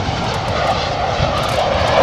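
RAF Eurofighter Typhoon jet passes with a loud, broad, roaring engine rumble that stays steady and close across the whole short stretch.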